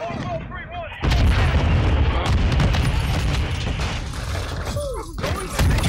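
Loud, sharp blasts and rapid gunfire in a close-quarters shooter match, a Semtex grenade bursting amid dense shooting, with shouted voices over the chaotic din.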